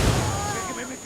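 A frag grenade goes off in Ghost Recon Wildlands as a heavy, deep blast right at the start, then a rumbling tail fades over about a second.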